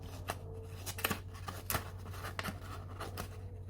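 Bosch 16-in-1 multitool scissors snipping through a piece of paper, a series of short, crisp cuts and rustles heard up close and quiet, with no talking.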